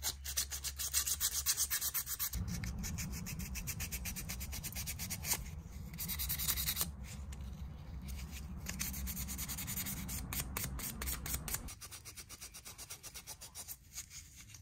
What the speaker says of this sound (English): get a small piece of sandpaper, 400 grit, and stick down in there and get as much of that surface rust off as I can